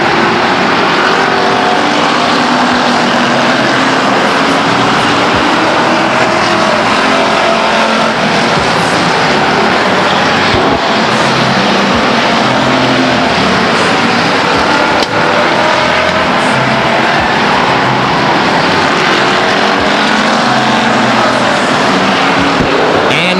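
Stock cars racing at Stockton 99 Speedway roar steadily past in a loud, continuous wash of engine noise, with the pitch swelling and fading as the pack circles the oval.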